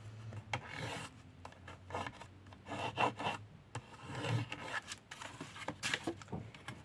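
Pencil tracing around the edge of a template to mark an outline for cutting, with soft scratchy strokes in short uneven bursts close by and quiet.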